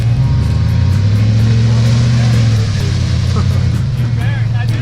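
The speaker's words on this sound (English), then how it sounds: "My tire started spinning." A truck engine roars steadily while trail riding through mud, its low drone rising and falling as the tire spins, with people talking over it.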